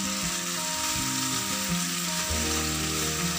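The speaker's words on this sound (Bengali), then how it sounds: "ভাজা চিকেনটাকে আমি এবার এই সসের মধ্যে দিয়ে দিলাম।" Fried chicken for chicken lollipop sizzles in sauce in a pan, a dense continuous hiss and crackle with some stirring and scraping underneath, close and steady.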